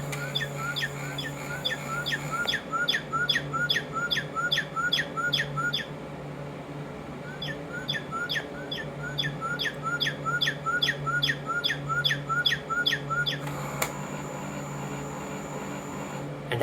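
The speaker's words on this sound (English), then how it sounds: "Here's my Cuckoo Clock." A mechanical bird call repeats in quick regular chirps, pausing and starting again, over a steady electronic hum, like a cuckoo clock chiming.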